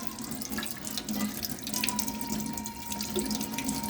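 Running tap water rinses a blackened roasted pepper under a kitchen faucet, a steady close splashing flow that continues throughout with no talking.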